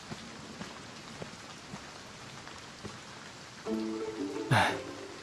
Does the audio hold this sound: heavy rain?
yes